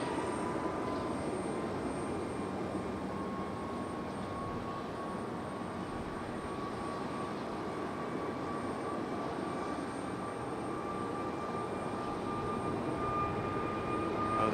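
Frontier airliner departing Raleigh Durham airport, a continuous, even jet engine roar heard from a distance with faint whining tones on top, steady throughout with no talk.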